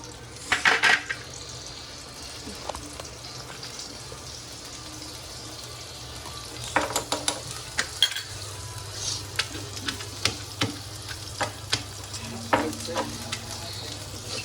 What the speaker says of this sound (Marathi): नेहमीप्रमाणे थोडासा हिंग टाकते. आणि हा जो वाटलेला ठेचा आहे तो यात टाकते.